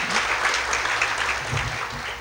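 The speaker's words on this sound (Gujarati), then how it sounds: "એમને આપણે તાળીઓથી વધારીએ" A seated audience at an education event claps together in a sustained, dense round of applause that holds steady throughout.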